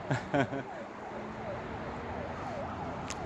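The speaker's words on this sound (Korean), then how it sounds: "올림픽대교 위로 앰뷸런스가 질주하고 있습니다" An ambulance racing across Olympic Bridge over the Han River in Seoul, its wailing siren sweeping up and down repeatedly at a distance beneath steady road and wind noise, with a few short louder bumps near the start.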